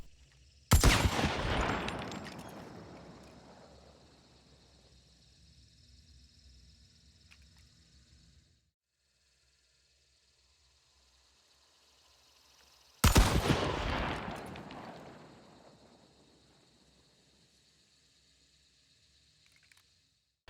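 Two separate blasts of the Romero 77 shotgun loaded with buckshot in Hunt: Showdown, each a sharp, loud boom with a long decaying tail, spaced roughly twelve seconds apart with near silence between.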